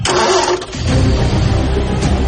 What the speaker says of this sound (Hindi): गाड़ी का इग्निशन किसी ने ऑन करने की कोशिश की थी, लेकिन गाड़ी चालू नहीं हुई